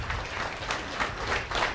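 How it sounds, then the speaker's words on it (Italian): A studio audience on an Italian interview programme breaks into spontaneous applause, a continuous wash of clapping from many hands at moderate volume, with no voices on top. "qui l'applauso parte spontaneo"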